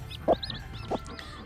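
A mother hen gives two short, soft clucks a beat apart, calling her baby chicks out from under her, close by against a quiet background.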